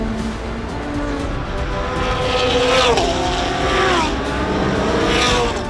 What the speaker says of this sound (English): Albert Costa Balboa continues to lead this race, just making sure he brings that Lamborghini home.